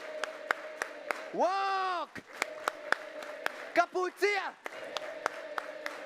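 A group claps hands in a steady, regular beat during a youth programme activity, sharp close claps that pause while voices call out and sing over the top.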